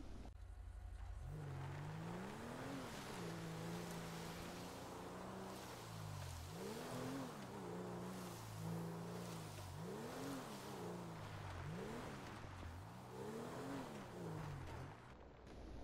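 Engine note of a car in GTA 5 rising and falling in repeated revving swells over a steady low rumble, loud and close throughout with no talk.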